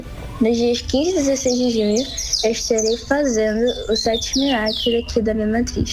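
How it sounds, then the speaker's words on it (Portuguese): A small bird sings in a series of short, bright chirps and tweets while a person talks steadily over it. "tem um passarinho cantando"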